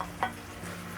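Broccoli florets drop into a frying pan of beef strips and green capsicum simmering with a little water over medium-low heat, giving a short soft clatter over a low, steady sizzle.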